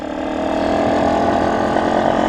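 A motorcycle engine runs steadily and loud through a gear change, its mid-pitched hum holding even and close with no pauses or clear clicks.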